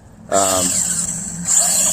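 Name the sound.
RC car engine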